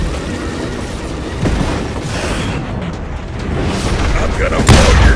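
Loud shotgun blasts boom in a Western shooter set in the Old West, thick with rumbling gunfire noise and a sharp blast near the end, while a voice speaks over the action.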